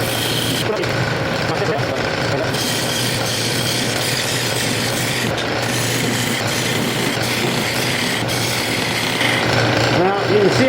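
A wood lathe turns a giant wooden chess pawn down to a taper, giving a steady, loud grinding rasp of the tool cutting the spinning wood over a constant motor hum.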